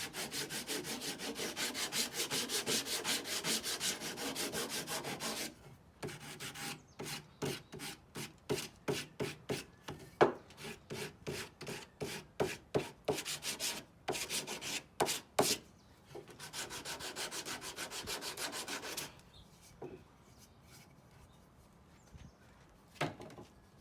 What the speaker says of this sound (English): This is a block of wood with an old belt sander belt.